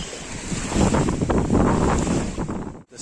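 Sea waves roll onto Enez Altınkum beach in Edirne, Turkey at sunset, a close, full surf wash swelling and easing, with strong wind buffeting the microphone before a brief drop near the end.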